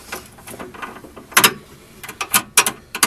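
A hand ratchet snugs up a sway bar bolt on a second-generation DSM car, giving close, crisp clicking bursts in uneven strokes with brief pauses between them.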